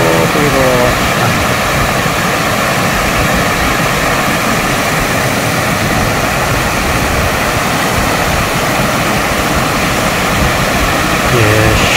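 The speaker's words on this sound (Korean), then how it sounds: "12폭포 중에 제4폭포, 3단폭포" A three-tier waterfall, the fourth of twelve falls on Seongchisan mountain, pours in a constant loud rush of broadband water noise that fills the whole stretch without pause.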